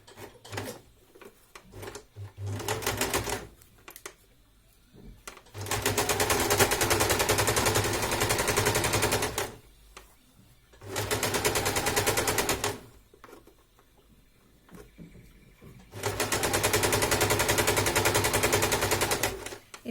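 A sewing machine stitches a dart and an invisible zipper in fabric, running in three long loud bursts of rapid, steady needle chatter separated by quieter pauses with faint handling sounds.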